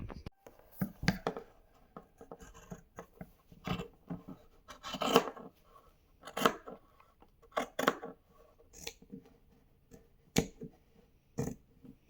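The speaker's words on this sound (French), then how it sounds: "on utilise des ciseaux à tissu qui ne coupent que le tissu" Fabric scissors snip through cloth in a quiet, uneven series of crisp cuts with short pauses between them. No one speaks.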